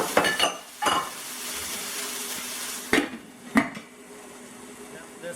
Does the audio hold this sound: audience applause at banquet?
no